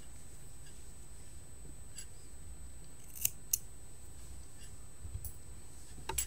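Scissors cut crochet yarn in a quiet room, with a few faint clicks and then several sharp, crisp snips spread across a few seconds, no voices.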